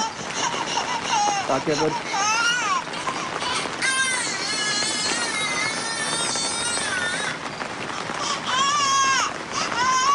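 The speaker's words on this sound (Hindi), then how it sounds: "मैंने बच्चे की और रोने की आवाज़ लगाई है" A recorded baby crying is played back in a small shed during a paranormal investigation, wailing in repeated rising and falling bursts over about ten seconds while people talk over it.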